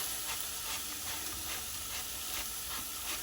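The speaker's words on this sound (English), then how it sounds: "There's nothing like onions cooking." Onions sweat in a pan, making a continuous soft sizzling hiss that stays steady throughout, with no voices.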